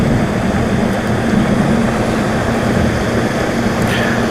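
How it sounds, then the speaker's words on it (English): A boat's trolling motor runs steadily on a lake, giving a continuous close droning hum with a low engine tone and no break. "And my trolling motor's dragging."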